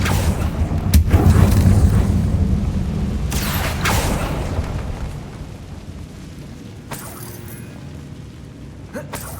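The Confringo blasting spell goes off in Hogwarts Legacy: deep, loud booming explosions rumble through the catacombs, with several sharp bursts spread across the stretch.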